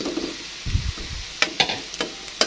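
Tempeh pieces are dropped into sizzling, fully cooked spice paste in a pan. A soft bubbling fry sits under a few close, crisp clicks and scrapes from utensils and handling.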